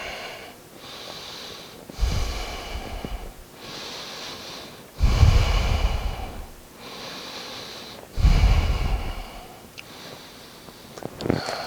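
Slow, deep breaths during an intermediate yoga flow, held in a hip flexor stretch, rise as three audible inhale-exhale cycles with breathy, slightly nasal rushes of air, close and unaccompanied by talk.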